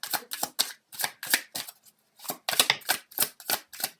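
Tarot cards being shuffled by hand in quick, rhythmic bursts of papery riffling, close and fairly loud, with a short pause partway through before the shuffling picks up again.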